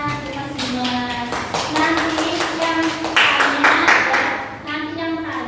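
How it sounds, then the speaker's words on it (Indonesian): A classroom group claps in short, rhythmic bursts of hand claps, fairly close and loud, with a teacher and students talking over and between the claps. "Tepuk tangan."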